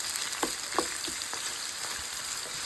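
Onions sizzling in hot oil as they fry for a stuffed-aubergine dish, a steady crackling hiss with a few soft knocks and stirs, close and fairly quiet, no talking.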